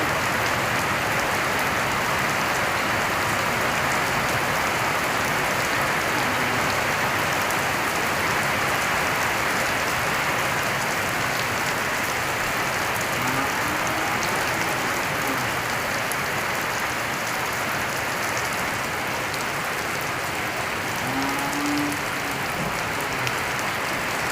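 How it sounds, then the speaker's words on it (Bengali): Heavy morning rain pours down in a village, a loud, unbroken hiss of drops drumming on surfaces with no pauses. "সকাল থেকে প্রচুর বৃষ্টি হইতেছে"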